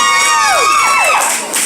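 A loud crowd at an indoor wrestling show cheers and whoops, with high children's voices prominent in a brief, sustained burst.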